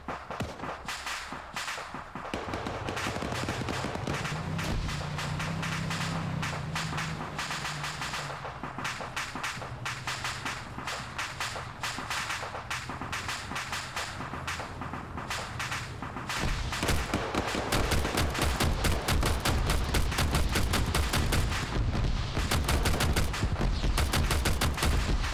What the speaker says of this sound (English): I'm putting some GL rounds at where I saw a dude.